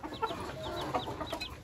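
Hens cluck in short, bright repeated calls, fairly close and moderately loud, with a chick growing up nearby in a rural yard where a hen has gone to lay eggs.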